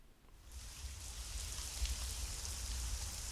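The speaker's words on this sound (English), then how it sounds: "it's currently raining outside at the same time as I'm recording this in the rain" Rain falls outside in a continuous soft hiss that swells in after a quiet start and holds steady, with a low rumble beneath and no speech.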